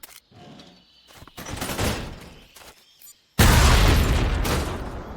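A TNT charge detonates against an enemy ammo supply in Metal Gear Solid 3, a sudden loud boom at the end of the clip rolling into a sustained roar of debris, after earlier scattered crackling pops and rumbling blasts.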